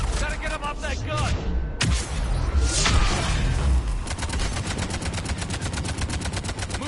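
A mounted gun fires in a video game, rattling out a rapid, even stream of loud shots that grows steadier toward the end, with explosive thumps and game voices mixed in.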